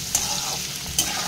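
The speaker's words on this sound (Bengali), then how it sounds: "পেঁয়াজটা আমি ব্রাউন ব্রাউন করে ভেজে নেব।" Chopped onions fry in a pan with a steady close sizzle, punctuated by two quick stirring scrapes.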